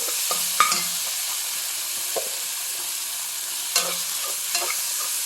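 Ginger garlic paste sizzles and fries in a pan while being stirred, a steady hiss broken by a few sharp scraping clicks from the spoon, close and fairly loud, with no talking.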